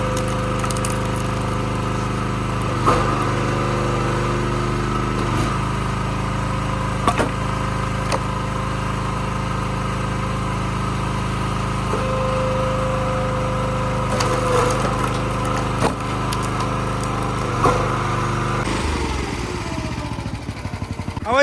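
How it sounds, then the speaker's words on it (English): Small engine idling down, a steady low mechanical drone with a faint rattle and occasional soft clunks, holding a constant pitch before easing off at the very end. "I always like to let it just idle down for a second, whether it's this or my tractor or anything."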